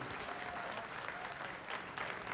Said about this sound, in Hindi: जरा जोरदार तालियां तो मोदी जी के लिए होनी चाहिए